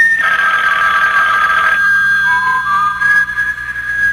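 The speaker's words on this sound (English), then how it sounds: "Your phone, Harry." A telephone ringing in a radio drama, one loud trilling ring of about a second and a half, then a fainter tone over a quiet background.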